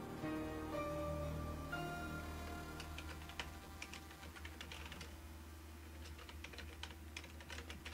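Computer keyboard typing for notes, with quick irregular key clicks in short bursts over a steady humming game music bed, fairly close but quiet, no talking.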